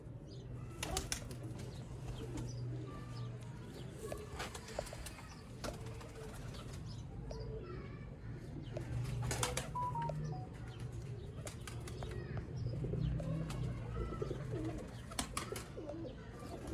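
Pigeons kept by a hobbyist coo in low, repeated throaty calls, close and steady, with occasional bursts of wing flapping and a few chirps around them.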